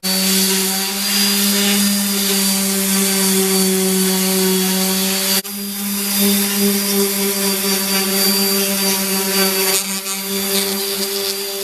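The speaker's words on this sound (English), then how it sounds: "I'm going to use the sander here, and I'm just going to smooth it up and get it prepped for the next thing" An electric sander drones steadily while smoothing a wooden khopesh handle, a loud continuous whine with a brief dip midway and no talking.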